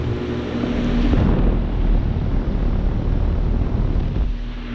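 A 2009 Carrier Performance 3.5-ton heat pump outdoor unit with a GE fan motor and a sound blanket runs in heat mode, giving a steady, close, broadband whoosh over a low hum.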